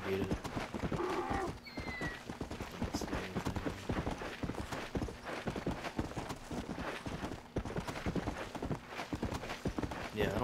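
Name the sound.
horse hooves clip-clopping in video game Red Dead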